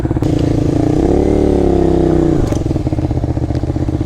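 A Honda VTR 250 motorcycle accelerating, the loud close engine note rising in pitch through a rev, then dropping back to a rough, pulsing idle.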